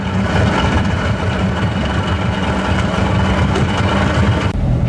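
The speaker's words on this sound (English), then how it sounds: "an even more beautiful sound was Dan's engine turning over" A steady, loud boat engine idles with a deep rumble and constant drone throughout, no voices heard.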